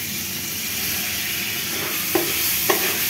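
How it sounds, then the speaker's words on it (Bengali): Rice frying in oil for white pulao, a steady hissing sizzle with two brief scraping clicks from stirring near the end. "দিয়ে দিব চাউলগুলা তেলের মধ্যে ভাজি করার জন্য।"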